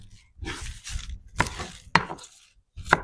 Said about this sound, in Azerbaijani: Soğanımız qovrulana qədər göylərimi doğrayıram.